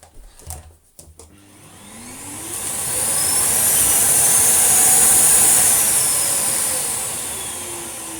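A household vacuum cleaner switches on after a couple of soft clicks, its motor spinning up into a loud, steady high-pitched whine that holds, then eases slightly toward the end, with no voices.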